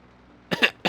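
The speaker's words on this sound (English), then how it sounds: "Sorry, can't seem to shake this cough" A Persona 5 Royal character gives two or three short, close coughs after a brief quiet pause, each one a sharp separate burst.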